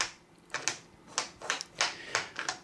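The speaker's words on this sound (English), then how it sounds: "So we just need to shuffle these round a little bit." Silver sliding square puzzle pieces shuffled around inside an English oak frame, giving a series of sharp clicking and sliding knocks in irregular bursts, close and fairly quiet.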